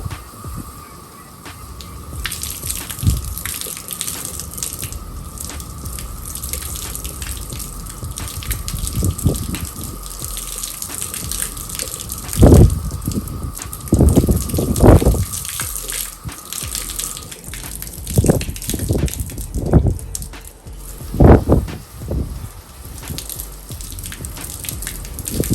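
Water rinses over a car panel coated with a waterless wash and sealant, a steady hiss of running water broken by several louder gushing splashes, close by with no talk.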